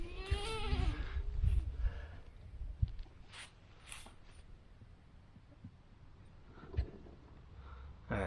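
A farm goat bleats during a tetanus vaccination, one close, wavering bleat at the start followed by quieter handling noises, shuffling and faint thumps.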